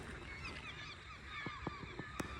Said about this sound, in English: there's a hell of a lot of seagulls